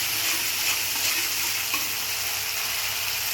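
A mustard and poppy seed spice paste frying in a pan, a continuous bright sizzle with faint scraping of stirring, steady and close with no voices.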